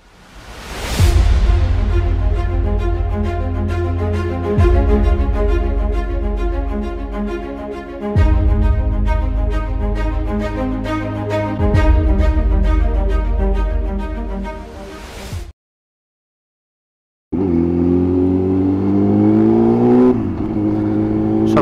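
A Yamaha FZ1-N motorcycle rides a twisty road, its engine revving steadily and loudly with repeated rises and dips in pitch through the bends, then cutting out briefly before pulling away again.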